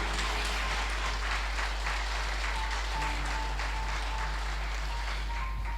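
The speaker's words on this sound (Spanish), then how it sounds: "dale un fuerte aplauso a Jesús." Church congregation applauding during a Spanish-language service, a steady wash of clapping with a low constant hum underneath and faint tonal sounds from instruments or voices in the room.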